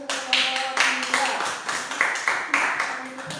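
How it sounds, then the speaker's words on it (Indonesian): Classroom applause for the second student group, several rounds of brisk clapping from a room of pupils, moderately close, with overlapping voices and tonal chatter running through. "Kalau nggak ada kita kasih tepuk tangan dulu untuk kedua."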